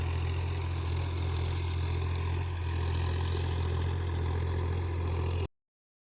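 A tractor pulling a rotavator works a farm field being readied for dragon fruit poles, giving a steady low engine drone throughout that stops abruptly at the end.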